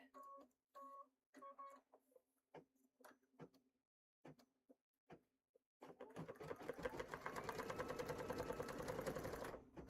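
Embroidery machine stitching with green thread: sparse single clicks and short ticks at first, then a fast, continuous rhythmic needle chatter that runs steadily at close range, with no talking.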